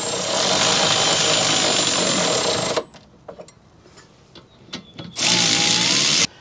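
GearWrench 85062 ratchet wrench snugging rear brake caliper bolts on a Toyota RAV4, a loud, fast continuous ratcheting buzz that stops, leaves a few quiet clicks, then resumes.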